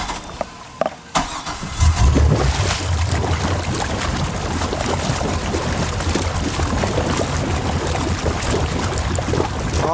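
A wakeboard boat's inboard engine cranks with a short starter whir, then catches and settles into a steady, loud, rumbling idle that continues without a break on the water.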